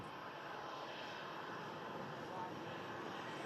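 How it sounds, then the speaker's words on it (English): An Airbus A330, a 10-year-old leased Air Tanker aircraft, arriving at Manchester Airport in stormy weather, a faint, steady distant engine roar with wind noise running throughout. "it's a 10-year-old 330 leased aircraft from Air Tanker."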